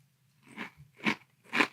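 Crunchy chewing of dry Oatmeal Crisp cereal eaten close up, three distinct loud crunching bites in a steady rhythm with no talking.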